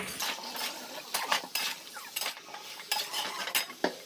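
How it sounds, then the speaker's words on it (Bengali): Vegetables sauté with spices in a pan, a spatula scraping and clinking against the metal in quick irregular strokes over a soft sizzle, close and clear with no talk. "মশলার সাথে সবজিগুলো ভালো করে কষিয়ে নিয়েছি"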